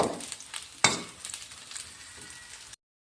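Sambal belacan, a dried shrimp-paste chili sambal, frying and sizzling in a pan while being stirred slowly, with a steady close hiss, a sharp scrape or clatter near the start and softer stirring scrapes, then cutting to silence.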